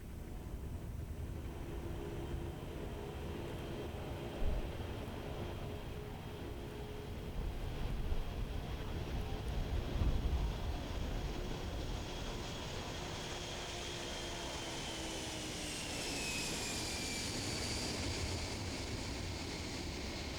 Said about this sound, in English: beginning to thunder down shuttle landing facility runway 15, heading to the southeast, taking to the skies for one last time from Kennedy Space Center